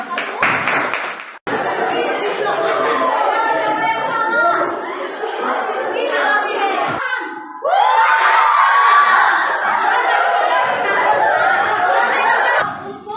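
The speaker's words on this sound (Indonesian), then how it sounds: "sekali lagi berikan tepuk tangan untuk kelompok 1" A classroom of pupils claps and cheers for a group, with lively chatter, shouts and laughter mixed in; the noise is loud and close, dips briefly, then swells again.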